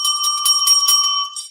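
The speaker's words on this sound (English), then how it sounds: "you get a bell" A bright bell rings once and sustains with a clear steady tone, close and fairly loud, fading out over about a second and a half, with no talk over it.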